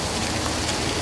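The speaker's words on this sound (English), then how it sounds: "We're about to get rained on here." Rain falling heavily outdoors, a dense, even hiss of drops hitting surfaces that stays steady and fairly loud throughout, with no voices.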